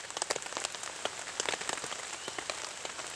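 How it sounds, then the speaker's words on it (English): Light, steady rain at a jungle campsite patters on a tent or surface nearby, crisp scattered drops ticking in an irregular rhythm over a soft hiss, no voices. "it's raining. Not a heavy rain, but a light, steady rain"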